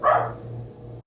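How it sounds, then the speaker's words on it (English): A pet dog barks once, a single loud bark near the start that trails off into a steady low hum of an indoor room, with no talking. "Excuse my dog."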